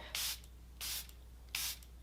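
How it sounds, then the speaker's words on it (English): Makeup setting spray is misted onto a face in three short, evenly spaced hissing bursts. Each is close and soft, with quiet gaps between them. "with a setting spray"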